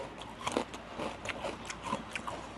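Close, crunchy bites and chewing of crispy fried pork rinds, with irregular crackly crunches spread across a few seconds and no talking.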